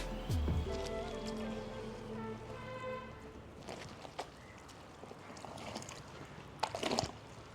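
A starched cotton mundu wrung out by hand in water, with soft sloshing and dripping that grows louder toward the end, over a low background hum.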